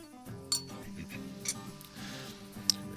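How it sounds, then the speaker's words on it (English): A utensil clinks against a pan while stirring a simmering whiskey apricot glaze on a grill, with a few sharp metallic taps over a low steady hum outdoors. "you just want to kind of keep stirring it"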